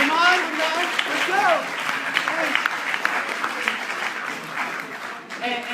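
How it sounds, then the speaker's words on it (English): A crowd claps for a writer being called up at a Muslim writers' gathering. The applause is loud and continuous, with voices cheering and talking over it near the start and end. "Please, round of applause."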